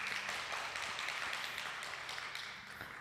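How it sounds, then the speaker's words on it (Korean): A church congregation at a Wednesday service in Sydney claps in welcome, a faint, distant patter of many hands that holds steady and then slowly tapers off. "우리 박수로 좀 맞이했으면 좋겠습니다"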